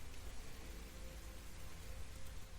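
Steady rain ambience, a dense even hiss of falling drops with a low rumbling undertone, quiet and continuous throughout.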